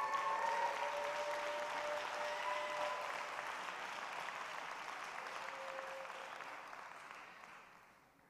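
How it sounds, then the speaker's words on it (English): A church congregation at Sunday morning worship breaks into sustained applause that fills the room, then slowly fades away. "Why did you all clap?"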